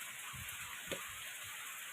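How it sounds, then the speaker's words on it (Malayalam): Light drizzling rain outside with a slight breeze gives a faint, steady hiss throughout, with a few soft low bumps and a single brief tap near the middle. "പുറത്ത് നല്ല മഴയുണ്ട് ചാറ്റൽ മഴ അല്ലേ ചാറ്റൽ ചാറ്റൽ മഴയാണ്"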